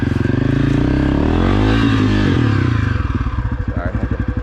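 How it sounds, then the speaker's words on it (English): A Honda CRF250F dirt bike engine revs hard and loud close by while the back wheel spins, then drops into a choppy, pulsing idle. "I had to spin the back wheel to get turned around here"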